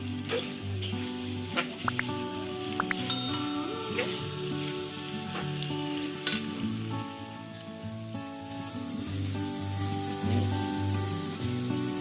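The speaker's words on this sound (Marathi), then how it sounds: "टॅमॅटो टाकून घेणार टॅमॅटोला देखील तसंच तेलामध्ये व्यवस्थित परतून घ्यायचं" Chopped tomatoes sizzling and frying in hot oil for a spicy prawn masala, a steady crackling hiss up close with a few sharp pops and stirring clinks, over a faint low background hum, no talk.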